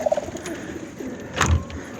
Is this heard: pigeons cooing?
yes